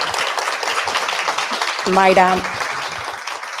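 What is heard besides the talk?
audience applause for Maya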